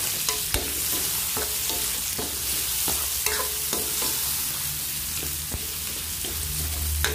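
Tomatoes frying with browned onion and garlic in a pan for chicken pochero, a steady close sizzle broken by repeated sharp scrapes and knocks of stirring, with no talking.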